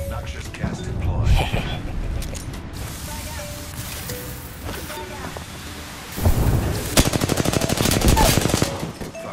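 Automatic gunfire in the shooter game Apex Legends, with rapid loud bursts, a short volley early and a long fast stream near the end, mixed with game effects and voiced callouts.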